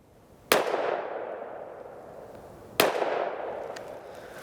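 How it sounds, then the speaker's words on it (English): Two sharp, loud shots from a Smith & Wesson M&P 5.7 pistol ring out about two seconds apart at a range, each followed by a decaying echo, with no talking. "So I'm gonna get my next 2 shots and hopefully this doesn't happen again."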